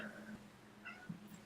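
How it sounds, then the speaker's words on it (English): A cat meows softly a couple of times, fairly faint, with a low hum in the background. "Meow."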